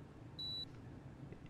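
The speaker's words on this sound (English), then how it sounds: "Why you give me beeping time bomb?" A single short electronic beep from a time bomb in the video game Papers, Please, clear and high over faint background hiss.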